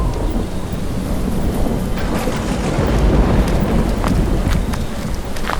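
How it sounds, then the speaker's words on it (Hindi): Steady heavy rain pours throughout, with low rumbling thunder rolling underneath; a continuous, loud, broadband wash with no voices. "तभी अचानक बारिश होने लगी"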